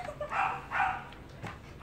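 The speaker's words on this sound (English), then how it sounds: "dog barking in the background" A dog barks a few times at moderate distance, sharp yelping calls spaced unevenly over a soft background hum.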